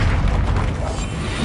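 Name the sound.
Descendo spell cast in Hogwarts Legacy video game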